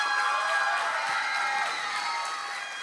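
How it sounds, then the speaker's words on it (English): A talent-show audience in Paulding breaks into applause with cheering and high whoops for the performers, loud and crowded, tapering slightly toward the end. "Y'all help me give them all performers one last round of applause."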